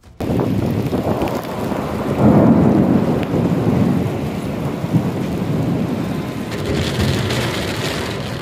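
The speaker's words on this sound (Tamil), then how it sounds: "பலத்த காற்றுடன் புழுதி புயல் மற்றும் கனமழை ஏற்பட்டு மக்களின் இயல்பு வாழ்க்கை அதிக அளவு பாதிக்கப்பட்டிருக்கு" A thunderstorm with heavy rain and a dust storm near the Prophet's Mosque in Medina: continuous loud roar of wind and pouring rain with deep rumbling thunder swelling mid-way, buffeting the microphone throughout, with no voices.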